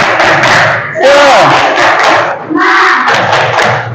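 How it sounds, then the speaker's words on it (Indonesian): A fourth-grade class does a loud rhythmic clapping chant together, with groups of claps and voices shouting in unison, close and energetic, pausing briefly midway before resuming. "kita tepuk semangat dulu yuk. Tepuk semangat."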